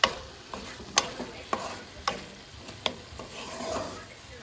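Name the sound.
stirring brinjal and drumstick curry in a pan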